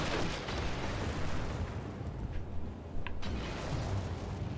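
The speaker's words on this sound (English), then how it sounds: "Wait, someone's throwing like grenades." Grenade explosions in a fantasy dragon-slaying video game, a dense rumbling roar of blasts and booms that stays loud and continuous throughout.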